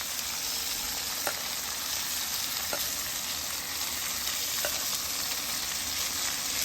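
Reverse-seared picanha sizzling on a griddle turned down to low, a steady close frying hiss with a few faint clicks, no voices.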